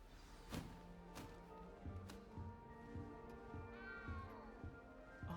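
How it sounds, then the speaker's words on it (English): A small cat meowing in Hogwarts Legacy, several short mews spread across the stretch at a moderate distance, over soft game ambience with light thumps and taps. "You don't need to be frightened, little cat."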